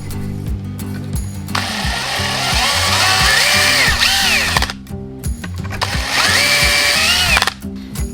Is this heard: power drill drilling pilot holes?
yes